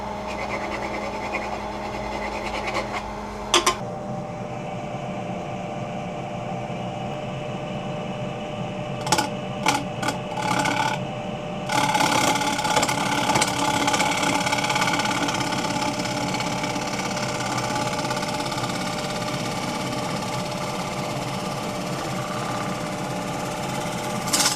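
A wood lathe spins a wet, punky spalted alder bowl while a scraper cuts it, a steady motor hum with a harsh scraping hiss, broken by brief pauses and sharp bursts, close and continuous.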